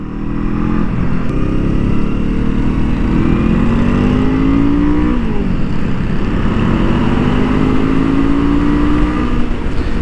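A 2023 Honda CL 500 motorcycle on a racing track, its engine note rising steadily and loudly as it accelerates, with a brief dip around the middle before climbing again, close and continuous throughout.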